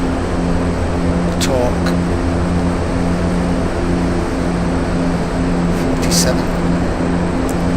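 An Aerosoft Twin Otter propeller plane climbs in a flight simulator game, giving a steady, dense propeller and engine drone throughout while someone speaks cockpit callouts over it.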